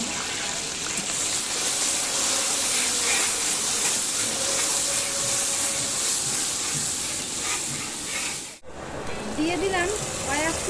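Chopped onion going into hot oil with whole garam masala, cumin and bay leaf for a mutton curry: a loud, continuous hiss and sizzle close by, a brief gap near the end, with a voice talking over it.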